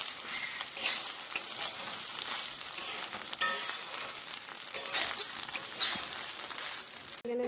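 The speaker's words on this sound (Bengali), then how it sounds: "তো আমি সব মশলাগুলো দিয়ে দিয়ে নাড়বো এখন।" Spices frying and sizzling in a pot of vegetarian khichuri, with a spoon stirring and scraping through them in irregular strokes and occasional light clinks, close and fairly quiet.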